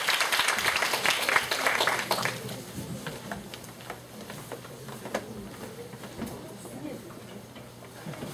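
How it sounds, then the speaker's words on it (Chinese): Students clapping for the fifth group in a university sociology class, a burst of close applause for about two seconds that thins into scattered claps, with background classroom noise. "同学给第五组鼓掌一下"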